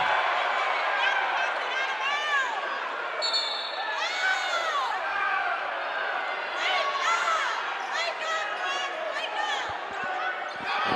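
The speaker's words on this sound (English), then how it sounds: "As you can hear some of the crowd not too happy with that call" Basketball crowd at a college men's semifinal tournament game grumbling and shouting in protest at a referee's call, a dense, steady wash of many overlapping voices with sneaker squeaks and ball bounces scattered through.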